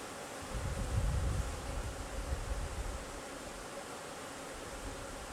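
Honeybees humming at an open hive of a strong colony during a frame inspection, a dense steady buzz that swells briefly near the start and then holds even, with no talking.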